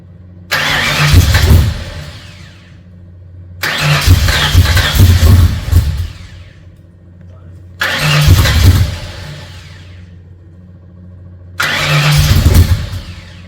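A 302 Cleveland V8 cranks and fires in four separate attempts, each a loud burst of a few seconds of churning, catching engine noise with brief gaps of quiet between them.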